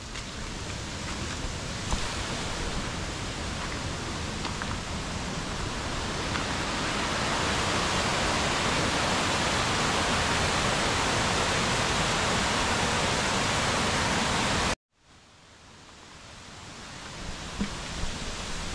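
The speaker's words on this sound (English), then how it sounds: "Listen, the sound of the waterfall" A waterfall in foggy Nordic mountains roars as a steady, dense broadband rush for about fifteen seconds, cuts off abruptly, then returns more faintly, with no voices present.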